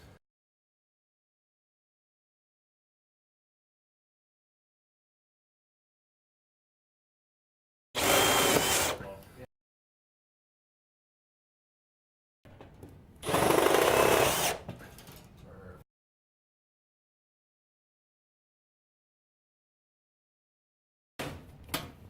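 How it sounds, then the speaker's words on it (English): A power drill drives tech screws into a light fixture in two short bursts of whirring, the second longer with a rising whine, separated by silence, plus a brief third start at the end. "Now what I'm going to do is I have to put 2 Tech screws in here."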